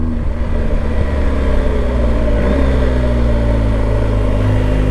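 A BMW GS motorcycle engine runs at a steady, loud idle with a low, even rumble, heard close and alone.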